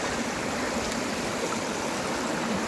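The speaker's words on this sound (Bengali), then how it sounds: "ঝর্ণা বয়ে যাচ্ছে পুরো এই দিকে" A mountain stream or waterfall rushing steadily nearby, a dense continuous broadband wash of water with no break, heard alone.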